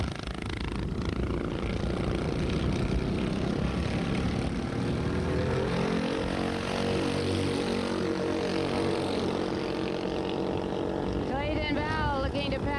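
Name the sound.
go-kart engines racing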